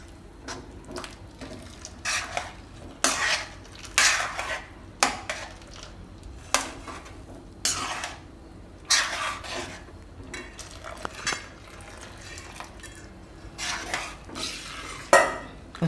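A spoon stirs hot milk into kheer in a metal pot on the stove, giving repeated scraping and clinking strokes in an uneven rhythm, close and clear, with no talking.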